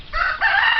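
A white cockerel gives a short, close, loud crow that rises in a quick second burst, a fragment under a second long with no voices over it.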